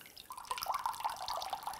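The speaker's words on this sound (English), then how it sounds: "then we're gonna add 3 cups of water" Water is poured from a cup measure into a pot, a brief liquid trickle and splash with small drip-like bursts, close and moderately quiet, with no voices.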